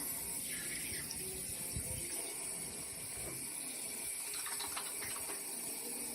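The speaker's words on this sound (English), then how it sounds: "a baker always washes their hands" Hands are washed under running tap water at a sink, a faint steady splashing stream with soft rubbing and small clatters mixed in, continuing without pause.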